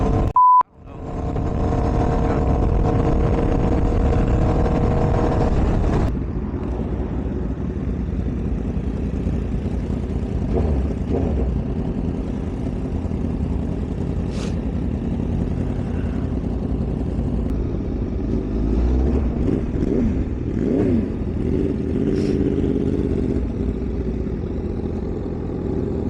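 A 2022 Honda CBR1000RR sportbike engine rumbling close by, a loud opening rev settling into a steady, throbbing idle with small blips throughout, no talk over it.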